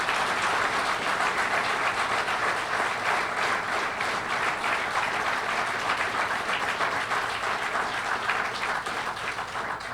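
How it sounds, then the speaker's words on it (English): Loud, dense applause from a labor union meeting audience, continuous clapping filling the room at even strength throughout. "So let's give them a round of applause."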